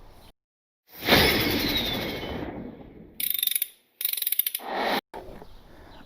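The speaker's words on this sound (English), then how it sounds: "in order to take this off you have to loosen these 13 nuts right over here" A ratchet works the nuts on a cheap eBay turbo kit, a long whirring spin followed by bursts of rapid clicking pawl ticks, close and loud with brief silences between.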